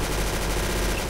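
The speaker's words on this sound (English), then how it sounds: "Oh, I got a machine gun." Rapid automatic machine gun fire in the Roblox shooter Arsenal, a dense continuous burst of shots filling the short moment, fairly loud with no talking.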